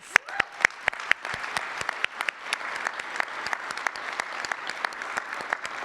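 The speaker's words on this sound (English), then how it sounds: "Let's give them all a round of applause." Applause from a banquet audience at an annual business partnership dinner in Iowa City, a steady wash of many hands with sharp individual claps popping out near the front, sustained for several seconds with no talking.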